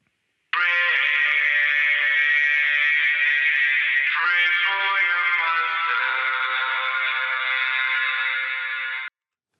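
Improvised guitar track run through pedal effects (filters, reverb, distortion and saturation), a dense sustained processed tone with a shift partway through, loud and alone for about nine seconds.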